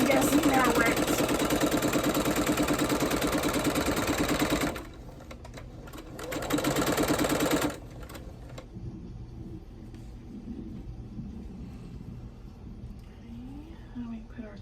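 A sewing machine stitching pieces of a log cabin quilt, running loud and fast in a steady buzzing whir, pausing, then running again in a shorter burst before falling quiet with faint handling sounds.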